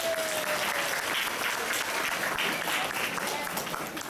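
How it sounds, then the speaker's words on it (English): A large audience at a Year 12 school formal applauds staff members with sustained, dense clapping that holds steady for the whole stretch, filling the room evenly without a break. "Please give them all a big round of applause."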